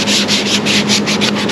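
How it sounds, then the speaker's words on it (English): Hand sanding of fiberglass with sandpaper while prepping for gelcoat and fillers: steady rhythmic back-and-forth rasping strokes, close and loud, about six passes, with no talk. "Sometimes the sandpaper can cut a groove in the corners if you're not careful"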